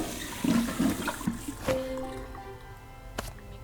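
Water is scooped from the sacred font in Simon the Sorcerer, a few gurgling, sloshing splashes up close, followed by a fading trickle and a soft tonal chime.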